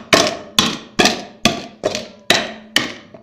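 Seven evenly spaced sharp impacts, a metal tool pounding MLCC ceramic capacitors inside a stainless steel pot, each strike ringing briefly and fading before the next, close and alone.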